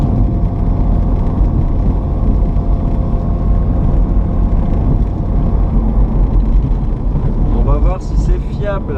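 A Renault Super 5 1.1 fitted with a Garrett GT28 turbo drones loudly and steadily from inside the cabin, a dense low engine roar with rising tonal whines near the end.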